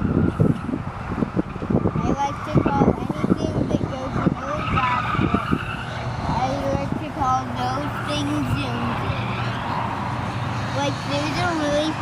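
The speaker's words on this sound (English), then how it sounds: "they're doing SCCA racing, Sports Car Club of America racing" Mazda Miata race cars skid and squeal their tyres at a Sports Car Club of America race, with engine roar and repeated screeching heard from a spectator's spot while people talk nearby.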